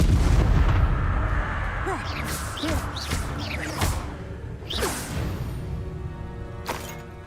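Incendio fire spell casting in Hogwarts Legacy amid a combat sequence, with a rapid run of whooshing blasts and sharp impacts over a rumbling low backdrop, followed by a few scattered cracks and fainter hits.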